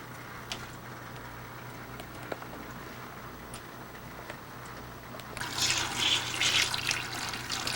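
Water is siphoned out of a home fish tank: faint drips and small trickles at first, then a louder gurgling rush of water near the end.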